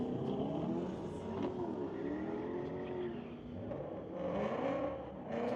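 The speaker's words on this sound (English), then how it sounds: "a Pontiac not yet on file, racing against Braden Alexander in a 2021 Corvette" A Pontiac and a 2021 Corvette drag race at a street-legal night event on a raceway, their engines roaring steadily loud with rising and falling revs as they accelerate down the strip.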